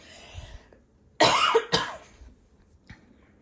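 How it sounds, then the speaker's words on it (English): Two harsh, loud coughs in quick succession, then a fainter third one, close by in an otherwise quiet room. "I had a little bit of a coughing fit"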